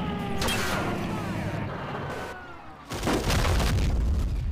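In the tank combat game Men of War, an armour-piercing round strikes a tank with a deep, booming impact and a rumbling crash that swells louder toward the end, heard with no talking.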